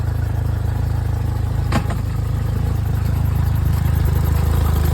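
A vehicle engine, nearly out of fuel, runs steadily just after firing up, with a low continuous idle rumble and a brief clatter partway through, close and alone.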